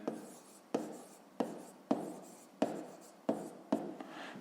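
Pen strokes of a maths solution being written out on paper for a fifth-grade exercise: seven distinct scratching strokes, each starting with a sharp onset and trailing off, close and fairly quiet, with no voices.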